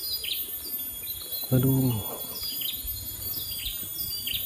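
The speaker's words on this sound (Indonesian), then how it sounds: "di sini mah ya masih alami suara burung berkicauan teman-teman" Birds chirp and call in a rural Indonesian village, high thin twitters repeating faintly in the background throughout, with a brief spoken exclamation partway through and a steady hum of outdoor ambience.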